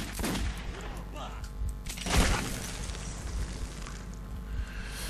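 Gunfire from the video game Metro 2033 crackles in continuous bursts with a heavier blast near the middle, loud and dense throughout the short stretch.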